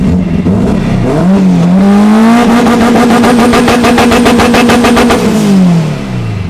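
A car engine revs up on launch control with the clutch in and holds at a steady high-pitched buzz for several seconds, loud and close, then drops back down as the revs fall.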